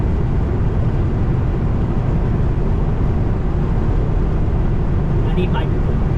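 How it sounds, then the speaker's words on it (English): Loud steady airplane cabin noise during flight, a dense broadband roar that holds constant throughout, with no talk. "This is like the in-flight sound."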